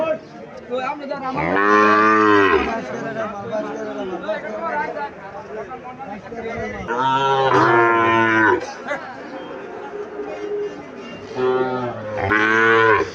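A Sahiwal calf moos three times, loud and drawn out, at a cattle market, with people chattering in the gaps between calls.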